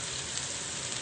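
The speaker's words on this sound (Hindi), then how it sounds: "चलिए नरम हो जाएंगी तो फिर अब हम इसमें गाजर ऐड करेंगे।" Vegetables sizzle steadily in a hot pan as carrots are added for a chicken pasta dish, a continuous close frying hiss with no talk.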